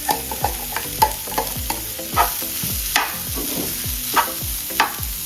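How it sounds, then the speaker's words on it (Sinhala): A spoon scrapes and stirs dumpling filling with potatoes in a hot pan, sharp clacking strokes about once a second over a steady sizzle, close and alone. "කලවම් කරගන්න ගමන් හිමීට අල ටිකත් ඒකටම දාන්න."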